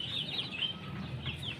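Chickens cluck and chirp faintly at a rooftop pigeon loft, soft scattered calls over a steady background hum.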